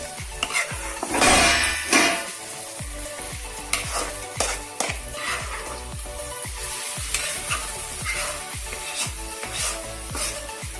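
Taro-leaf spice paste sizzling in a pan while a spoon scrapes and stirs in a steady rhythm, with a louder burst of frying early on.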